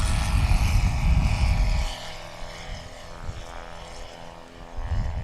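A STOL propeller airplane takes off during Swamp STOL practice in Jennings, Louisiana. Its engine roars loudly and steadily for about two seconds, then drops to a quieter, distant drone before swelling again at the end.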